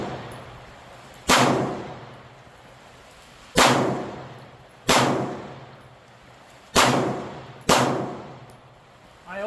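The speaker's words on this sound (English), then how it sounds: "We're gonna do 2 rounds on each of those small targets there" Five sharp pistol shots ring out at uneven intervals, each striking a small steel target with a bright metallic clang that decays slowly, with no talking.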